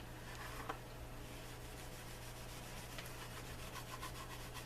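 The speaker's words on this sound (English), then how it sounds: "now I'm going to buff off any excess that's sitting on the surface." A soft cloth is rubbed across a leather holster to buff off excess neat's foot oil, making a faint, continuous brushing swish with repeated strokes over a steady low hum.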